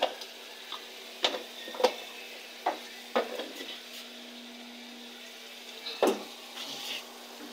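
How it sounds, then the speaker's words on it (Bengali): Potatoes stirred into a spiced masala frying in a pan, a spoon knocking against the pan every second or so over a steady soft sizzle, close and with no talking. "মশলাটা কষাচ্ছি"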